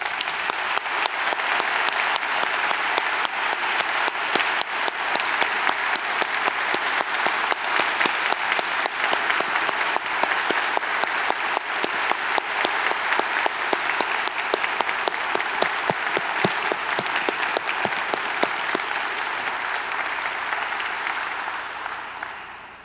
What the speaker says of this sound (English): please join me in giving her a well-deserved applause